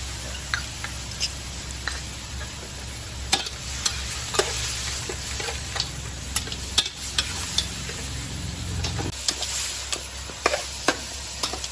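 Stir-frying shellfish with holy basil (Thai kaphrao hoi) after seasoning and sauce go into the pan: steady sizzling with repeated scraping, clacking stirs at an irregular rhythm, close and fairly loud, no talk.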